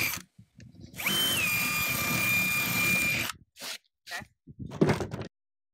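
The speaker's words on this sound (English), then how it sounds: "take your drill and a drill bit that's bigger than your blade" A power drill whirs loudly and steadily for about two seconds, boring a hole into a floor, then a few short bursts and clunks follow.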